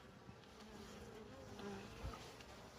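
Honeybees buzzing around an outdoor hive on orientation flights after rain, a steady low drone of many insects with individual bees passing close by, wind noise underneath.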